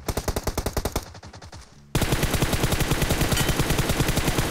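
Rapid automatic gunfire in the battle royale game PUBG, loud and close, comes in one rhythmic burst, breaks off briefly, then resumes as a denser, sustained volley.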